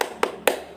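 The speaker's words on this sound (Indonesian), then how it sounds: "Tepuk semangat." Three sharp hand claps spaced evenly about a quarter second apart, close and crisp, a teacher's 'tepuk semangat' cheer clap pattern in an elementary classroom lesson.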